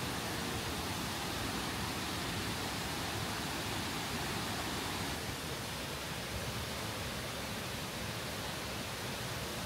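Tortum Waterfall in Turkey roars as a steady, broad rushing wash of falling water, continuous and unbroken throughout.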